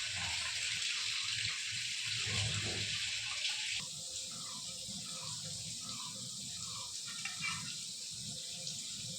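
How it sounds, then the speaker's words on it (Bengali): A kitchen tap runs steadily while fish is washed in the sink, a close, continuous splashing hiss with shifting water sounds and light clatter, no speech. "এটা একটু ধুয়ে জলটা বন্ধ করো"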